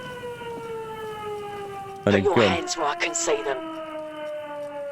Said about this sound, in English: They've even got their own wind-up siren and everything.